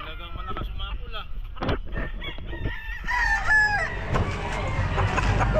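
A young stag rooster crows loudly at an outdoor pet market in Calumpit, with market chatter, nearby talking and passing vehicle noise underneath.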